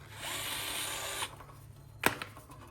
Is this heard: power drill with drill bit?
yes